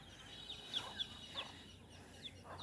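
Faint, distant high-pitched peeping of chicks repeats at intervals, with a hen's soft clucks barely present in the quiet background.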